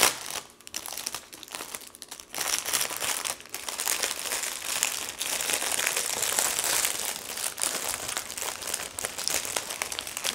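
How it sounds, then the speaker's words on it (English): Plastic packaging from journal supplies crinkles and rustles up close during unboxing, a near-continuous stream of crisp crackling handled in bursts with short pauses. "There's going to be lots of crinkles."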